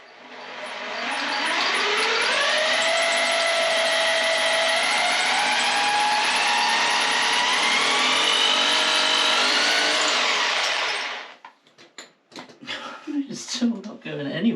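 A powerful drill, reached for after a combi drill failed, bores steadily into masonry with carbide-tipped bits, a loud sustained whine for about ten seconds before cutting off into scattered clatter and handling noise.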